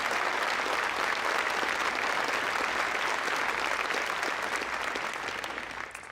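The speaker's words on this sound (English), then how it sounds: "Give yourselves a round of applause." Graduates at a 2022 Memorial University convocation give themselves a sustained round of applause, a thick, even wash of many hands clapping that holds steady throughout and eases slightly at the end.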